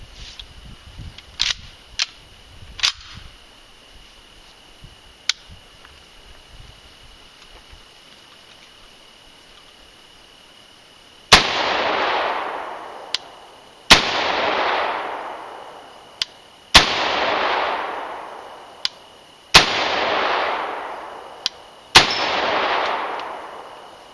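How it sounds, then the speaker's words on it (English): A rifle fires five loud single shots at steady intervals of about three seconds, one per trigger squeeze, each with a sharp crack and a decaying echo, after several softer clicks and taps of handling. "One shot per squeeze of the trigger"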